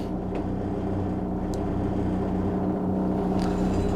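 A Striper 33 fishing boat of over seven tons, with twin engines, idles slowly out of Jeongok marina at under three knots. Its engines give a steady, low, continuous rumble with water wash and no talk.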